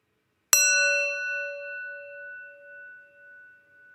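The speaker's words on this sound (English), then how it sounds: "listen to the sound of the bell" A single bell is struck once, with a bright metallic clang that rings on as a long, steady tone, slowly fading with a gentle wavering pulse.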